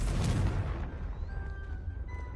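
A Confringo blasting spell goes off in Hogwarts Legacy, a loud, broad burst at the start that decays into a low rumble, with faint tonal game effects lingering afterward.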